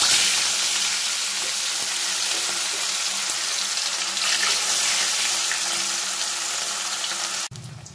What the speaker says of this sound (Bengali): এরপর আমি মাছগুলো এক এক করে দিয়ে ভেজে